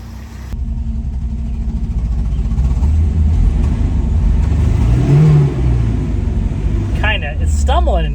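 Volvo 242 Turbo running poorly and stumbling at low RPM, its engine churning loud and close with a rough idle and uneven revs; a radio and voices break in near the end.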